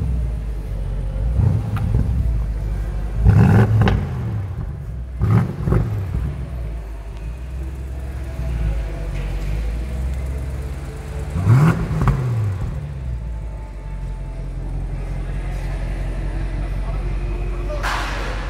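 A BMW M850i xDrive coupe engine gives several short rev bursts with deep rumbling swells. Between the bursts is a quieter idle, and people talk nearby.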